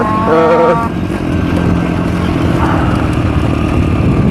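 A riding motorcycle engine drones loudly and steadily up close, with a brief rising gear-shift whine early on and a faint voice under the engine noise.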